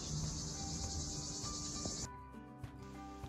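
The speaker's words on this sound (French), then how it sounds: "les cigales étaient déjà au rendez-vous" Cicadas in a summer garden give a steady, high-pitched buzzing drone that fills the first two seconds, then falls away and leaves quieter outdoor background with a faint tonal hum.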